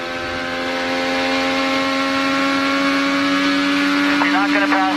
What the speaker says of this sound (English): let's take a ride with the race leader, Marco Andretti, and have a listen